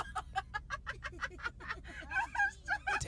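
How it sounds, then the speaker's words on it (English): A nearby turkey makes a rapid run of clucking, gobbling calls in quick rhythmic bursts, with a faint background murmur. "Don't be surprised when the turkey chases you."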